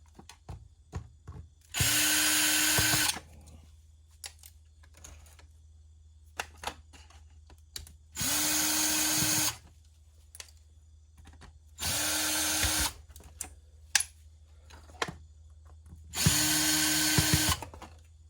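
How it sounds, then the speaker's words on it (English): A power drill backing screws out of a security system being scrapped for e-waste: four separate bursts of whining motor lasting one to two seconds each, spaced by quiet stretches with small clicks and handling noises. "We've got to use the other drill because it's a little deep."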